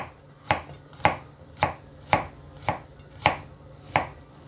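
A knife chops garlic on a cutting board in a home kitchen, seven crisp, evenly spaced thunks close up, with quiet gaps between strikes and no talking.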